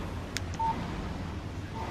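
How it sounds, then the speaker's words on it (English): A phone in the Alan Wake video game gives a short electronic message beep, one brief tone pair and a faint blip, over a steady low background hum. "Text message from Barry."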